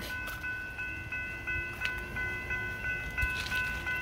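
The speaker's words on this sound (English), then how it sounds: "Not another train coming, guys." A Union Pacific mixed freight train passes in McNeil, Texas, making a steady rumbling roll with sustained tonal squeals from the cars and a few metallic clanks.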